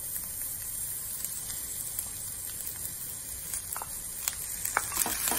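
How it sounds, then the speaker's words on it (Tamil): Garlic and drumstick leaves sautéing in a pan, a soft, even sizzle with faint crackles and a few light stirring ticks toward the end, close but fairly quiet. "முருங்கைக்கீரையை வந்து இதில் போட்டு கொஞ்சம் ஒரு 2 மினிட்ஸ் வதக்கினா போதும்"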